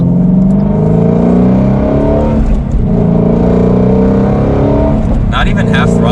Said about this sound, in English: I think it's the best V8 sound.